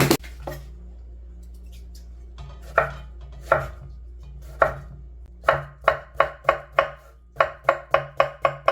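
A knife slices pickled cucumber (oiji) on a cutting board in crisp, distinct chops, spaced out at first and then settling into a quick, steady run of even strokes near the end.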